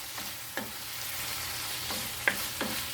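Ground hamburger sizzles softly in a pan under a steady low frying hiss, with a few brief scraping strokes of a wooden spoon stirring the meat.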